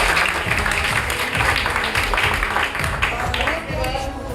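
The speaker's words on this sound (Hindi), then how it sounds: "एक बार तीनों के लिए एक साथ जोरदार तालियां" An audience claps loudly for three students who scored 100 out of 100, steady dense applause filling the whole moment at close range.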